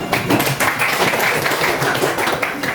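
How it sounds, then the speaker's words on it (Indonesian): Students in a classroom during a biology lesson on the human digestive system clap together, producing a loud, continuous burst of close, busy applause with no talk over it. "Oke, tepuk tangan."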